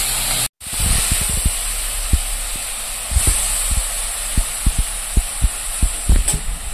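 Mushrooms frying in hot oil in a pan, a steady loud sizzling hiss throughout with a brief dropout near the start and soft irregular pops and taps over it.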